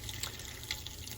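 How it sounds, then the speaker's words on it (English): Water from a Marine Trader boat's onboard water system drains out while it is being winterized, a steady soft trickle with faint drips that continues evenly throughout. "That took about 25 minutes to drain out all the water."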